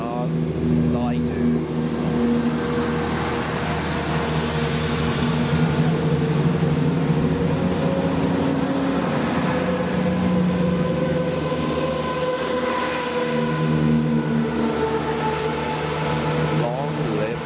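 A loud Turbostar diesel multiple-unit train drones close by, a steady throbbing rumble with humming tones that holds for the whole stretch.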